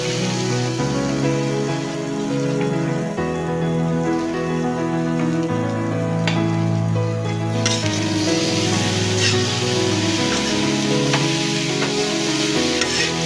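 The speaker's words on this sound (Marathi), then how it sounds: "अशा प्रकारे आपण परतून घ्यायचं आहे" Wheat-flour modak filling sautés in a pan with a continuous loud sizzle and scattered spatula scrapes and taps, close up, with a low tonal hum running beneath and no talk.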